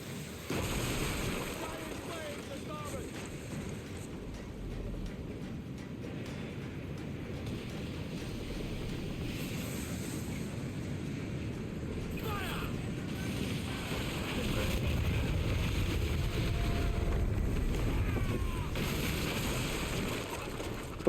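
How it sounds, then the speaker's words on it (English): A sailing ship ploughs through heavy, stormy waves in the video game Assassin's Creed Black Flag, with a steady roar of wind and surging water that swells louder toward the end. "I'm steering towards the waves."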